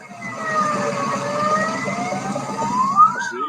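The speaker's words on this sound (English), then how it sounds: "All right, more fire trucks. Who doesn't love a good fire truck?" A fire truck siren wails at a street parade, a loud sweeping tone that rises and falls over a rumbling engine and crowd noise, close and continuous.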